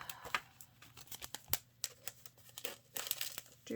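Tissue paper wrapped around a papercraft kit crinkles and rustles close by in quick, uneven bursts as it is unwrapped, with a few sharper crackles and no talk.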